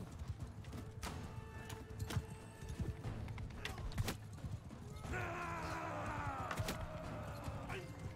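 Horse hooves clip-clop in the Mount & Blade II: Bannerlord game, a steady galloping patter mixed with battle noise, a whinny and a sharp clatter, all fairly loud and continuous.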